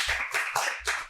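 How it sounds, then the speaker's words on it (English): Clapping from a group audience at a reading event, loud and close, in uneven bursts of hand claps with short breaks between them. "The audience claps supportively."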